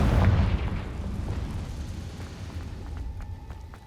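A Confringo spell detonates in Hogwarts Legacy with a loud, close boom at the start that rolls off into a long, fading rumble and faint crackling debris.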